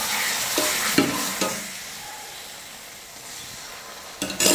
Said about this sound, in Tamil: இப்போது இது கூட கரைச்சி வச்சுருக்கிற சர்க்கரை பாகுவை கொஞ்சம் கொஞ்சமாக சேர்த்து நான் கலந்து கொடுத்துக்க போகிறேன்.